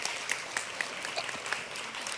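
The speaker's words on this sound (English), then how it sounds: "Let's give a round of applause." A crowd claps steadily in sustained applause, a dense patter of many hands with a few sharper claps standing out.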